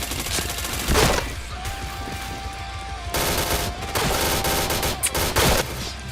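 Volleys of gunfire in a video game shooter, loud and near, with sharp separate shots and longer automatic bursts spread across several seconds, accompanied by a steady electronic tone partway through.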